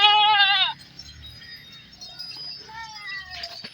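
Beetle goats on a farm in Bhakkar bleat loudly in a wavering, quavering call that stops abruptly, followed by quieter, shorter bleats and murmuring voices in the background.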